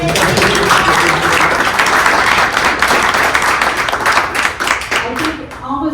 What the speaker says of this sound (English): Let's give them a round of applause, by the way.